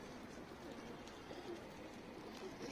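A male pigeon coos softly and repeatedly at a distance, low and faint against a steady background hum.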